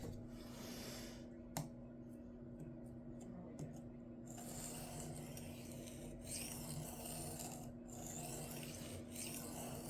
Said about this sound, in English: I can feel that stone burnishing almost immediately.